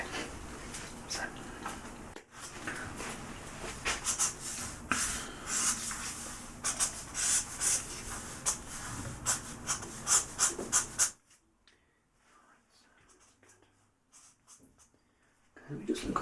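Marker tips scratch and squeak across paper in quick, close strokes for several seconds, then stop for a quiet pause before a faint rustle returns; soft speech-like breathiness hovers around the strokes.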